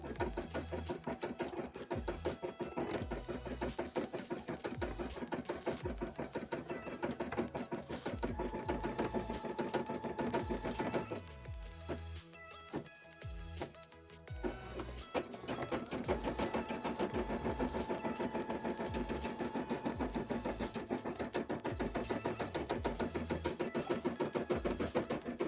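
An embroidery machine stitches a bra, its needle clattering fast and steady up close. A brief slower, quieter stretch breaks the run partway through before the full rattling rhythm resumes.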